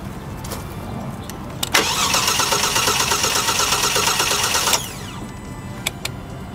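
A Genesis G70 engine cranks and catches, then runs at a steady loud idle for about three seconds before cutting off. The car's under tray had been packed with squirrel nesting material.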